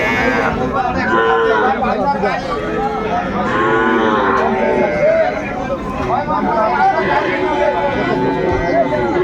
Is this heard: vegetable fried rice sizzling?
no